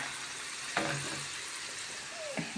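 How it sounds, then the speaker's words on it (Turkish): Steady sizzling and bubbling of potatoes frying in hot oil, a continuous crackling hiss with a couple of brief clinks. "Kaynıyor da."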